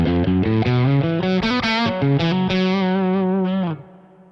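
Electric guitar played through an RK50 amplifier voiced dark, a run of sustained distorted notes and chords with thick low harmonics, loud and close, ringing out before cutting off near the end.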